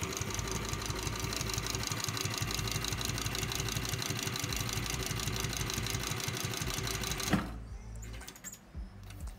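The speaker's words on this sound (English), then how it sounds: "we're just gonna sew it together" Sewing machine stitching a dog collar, a fast steady rattling run of needle strokes that stops abruptly near the end, leaving quiet handling noises.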